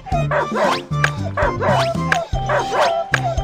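An injured puppy pinned under bricks whimpers and yelps in a string of high, wavering cries, close and loud, with pauses between bursts.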